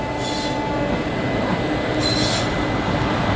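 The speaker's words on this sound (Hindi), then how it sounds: "ये देख लो कोच की तरफ से आ रही है एक गाड़ी। ये पैसेंजर ट्रेन है" A small three-coach passenger train rolls into a junction station with a steady rumble, and high metallic wheel squeals rise briefly over the noise as it slows.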